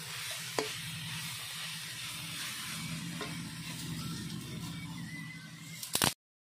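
Wild leafy greens fry and are stirred in a pan, giving a close, continuous sizzle with rhythmic scraping stir strokes. It ends abruptly after a few louder clatters, with no talking.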